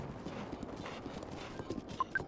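Quick rhythmic hoofbeats of a horse in the video game Zelda: Breath of the Wild, clip-clopping steadily at a gallop, fairly quiet, with a couple of short bright chime tones near the end.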